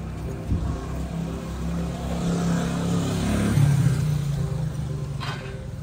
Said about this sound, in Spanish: Esa es la moto que estaba allá arriba.